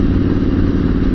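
A motorcycle being ridden, a retro Bonneville-style twin, gives a steady close engine drone with a rough, clattery mechanical texture throughout, with no talking.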